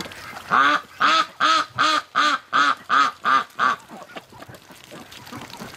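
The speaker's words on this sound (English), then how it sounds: "Ducks in mud." Ducks quacking in a muddy, snowy yard: eight loud, evenly spaced quacks in a steady run, then softer scattered calls and faint background noise.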